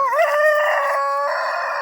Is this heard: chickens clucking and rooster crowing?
yes